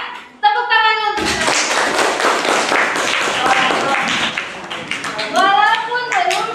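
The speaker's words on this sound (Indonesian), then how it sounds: "Semuanya tepuk tangan untuk" A group claps hands together in a classroom during an academic supervision lesson, a dense burst of claps lasting a few seconds with a voice talking just before and after.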